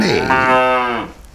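A cow on a Korean farm gives one loud, close moo, a drawn-out bellow that rises and then trails off after about a second.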